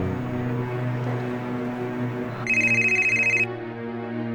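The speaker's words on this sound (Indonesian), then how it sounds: "Tante Nuri telepon." A telephone rings in a bright, rapidly trilling electronic burst lasting about a second, cutting in over a sustained background music bed that continues before and after.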